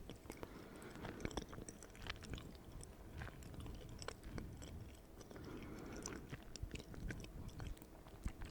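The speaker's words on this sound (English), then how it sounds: "I just hope that you can hear my chewing" Close, quiet chewing of food right at the microphone, soft wet and crunchy bites repeating steadily with no talking, over a faint fan hum from a PC in the background.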